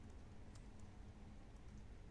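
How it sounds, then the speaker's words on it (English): Steady rain falls outside, a faint, even hiss with soft patters of drops, heard from indoors with no talking. "I can tell that it's raining."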